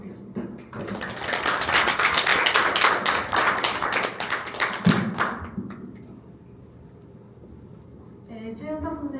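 An audience claps after a seminar talk on XR education applications, with steady loud applause for about five seconds that then dies away, leaving quiet room tone before a voice begins speaking.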